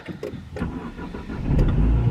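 A car on a frozen winter morning starts up and begins warming, a short cranking stutter then a low engine idle that swells and settles, close and loud with no talking.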